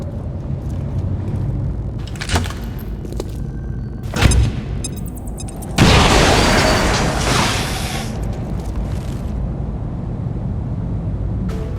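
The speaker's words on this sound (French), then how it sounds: "Grenade lancée!" A grenade detonates in the strategy game XCOM 2, a sudden loud boom followed by a sustained roaring burst of debris and noise, preceded by clicks and mechanical game effects.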